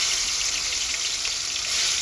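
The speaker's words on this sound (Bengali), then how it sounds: "তেলটা গরম হয়ে গেছে চিংড়ি মাছগুলো দিয়ে দিচ্ছি" Prawns rubbed with salt and turmeric fry in hot oil for a prawn malai curry, giving a steady, dense, close sizzle that holds even throughout with no talk.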